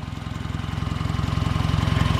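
A Chevrolet Camaro direct-injection turbo engine rated at 275 horsepower runs at idle, a close, steady rhythmic throb with rapid regular pulses that swell slightly in loudness, with no talking.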